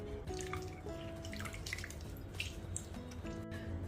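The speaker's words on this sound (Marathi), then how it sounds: "दोन लिंबांचा रस काढून घेते" Juice is squeezed from two lemons for a lemon-chilli pickle, giving soft, scattered drips and trickles that sit close under steady sustained musical tones.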